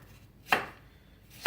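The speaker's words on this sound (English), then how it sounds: "slice up a tomato" Two crisp knife cuts through a tomato on a cutting board, close and quiet, about a second apart, with no talking.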